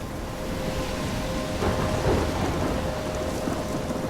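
Thunderstorm in Life Is Strange: dense continuous rain pattering on surfaces with low rolling thunder swelling midway, a faint steady tone underneath, no voices.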